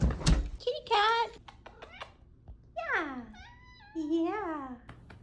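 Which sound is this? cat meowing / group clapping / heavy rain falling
cat meowing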